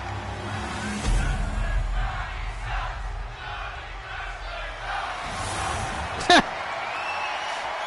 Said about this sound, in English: You gotta let the crowd sing.